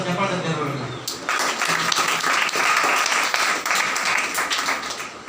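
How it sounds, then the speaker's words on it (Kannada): A church congregation at a Sunday service breaks into applause. A voice speaks first, then clapping from many hands fills the room for several seconds. "ಒಂದು ಚಪ್ಪಾಳೆ"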